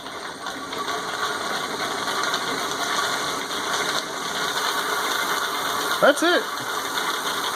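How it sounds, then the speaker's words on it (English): A pedal-powered generator turns an alternator with a steady mechanical whir and ratcheting drone throughout, near and moderately loud, with a brief spoken remark near the end. "Alternator's turning."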